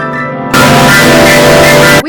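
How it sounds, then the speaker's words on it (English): Computer notation playback of a trill line, a sustained harsh wall of tone that jumps abruptly to extreme loudness for about a second and a half after a quieter opening, then cuts off. Dense, distorted and buzzing, with no voices. "there's a trill line that you can use to trill over a period of"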